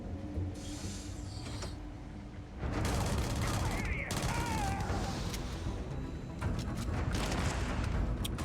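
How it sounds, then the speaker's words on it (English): Gunfire and mechanical clatter from a jetpack shooter video game, dense bursts of shots with creaks and whooshes, loud and continuous over a busy game soundscape. "Shooting people's jetpacks and having them fly up into the ceiling like that"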